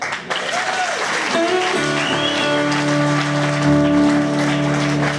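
An audience applauds after a blues performance at a live club show. Steady clapping runs underneath sustained instrument tones that ring throughout.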